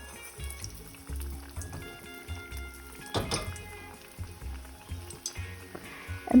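Lentil fritters (parippu vada) deep-fry in hot oil, giving soft bubbling and crackle under low thumps and clatter, with one louder splash of activity near the middle.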